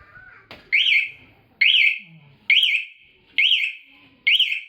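A Motobi Pesaro 200 Evo motorcycle alarm set off by vibration, a click followed by five loud, evenly spaced warbling electronic chirps, each sharp and close.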